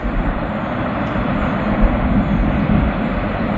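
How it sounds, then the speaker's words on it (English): A CSX locomotive passing through fog in Kentucky, a broad low rumbling roar that holds steady and fairly loud throughout, heard from a short distance. "I hear a locomotive."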